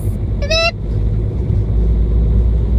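Road traffic rumbles around a bus on a city street, a steady low engine drone with a short, loud horn toot near the start, then continuing vehicle noise without speech.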